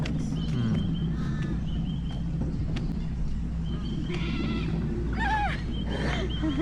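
Birds call out in a botanical garden on the Gold Coast, with loud raucous caws and bursts of chattering cries recurring over a steady, rumbling outdoor background.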